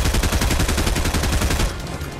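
Rapid automatic gunfire from the video game Fortnite, a dense burst of repeated shots running loud and steady for most of the span before easing off near the end.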